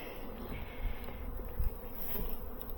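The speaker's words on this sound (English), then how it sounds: "there's a couple bees in there, they can get out." Honeybees at a beehive hum and buzz close by in a low, fluttering drone that wavers as individual bees move near, with a few soft bumps and no voices.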